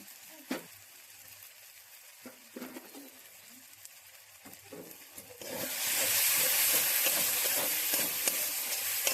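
Masala of salt, turmeric, chilli, cumin and coriander powder frying in oil in a pan for egg devil, a steady sizzling hiss that grows louder and fuller partway through, with faint clatter before it.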